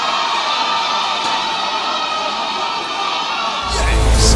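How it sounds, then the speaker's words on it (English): A crowd at the grand finale of a children's book quiz show cheers and claps for a finalist, with whoops and shouts that swell suddenly into a loud burst near the end. "let's give a round of applause as I welcome on stage Abu"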